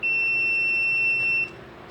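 A multimeter on continuity test gives one steady, shrill electronic beep of about a second and a half while probing the windings of a microwave oven transformer, loud and close, then it stops abruptly.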